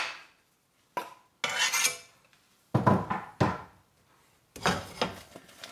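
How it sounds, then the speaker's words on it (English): Onions tipped into a hot stir-fry pan for fajitas and tossed, giving several separate bursts of sizzling, clattering metal and scraping, with short pauses between them and no talk. "I'm gonna pop them into the pan"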